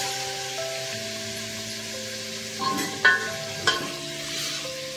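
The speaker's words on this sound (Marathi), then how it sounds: "मटण चांगलं खरपूस भाजून घेतलं जात आहे" Mutton pieces fry in a pan with a low sizzle while a spoon stirs and scrapes against the metal a couple of times. A steady background hum and tonal drone run underneath, and nobody speaks.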